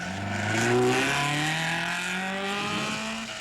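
An Alfa rally car engine revs and runs at a distance during the Coupe des Alpes, pitch rising and falling as it accelerates, with no talking.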